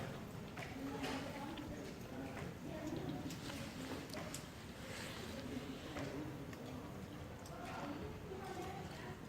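A horse trots in a riding arena, moving sideways in a leg-yield, its steady rhythmic hoofbeats close and continuous beneath an instructor's talking.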